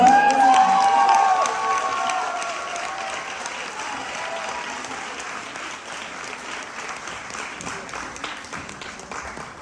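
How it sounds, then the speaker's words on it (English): An audience at a book tour event at a Masonic Lodge bursts into sustained applause with some cheering, starting loud and then settling into steady clapping that fades slightly. "Big round of applause."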